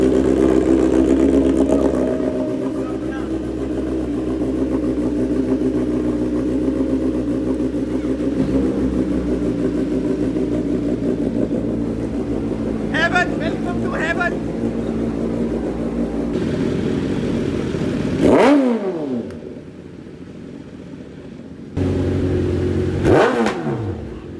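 Superbike engines idle loudly and unevenly after a cold start, followed by a couple of sharp, close revs that rise and fall near the end.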